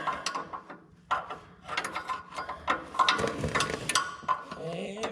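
A wrench ratchets with quick, close clicking bursts in short, irregular runs during blade repair work on a TD8E crawler dozer.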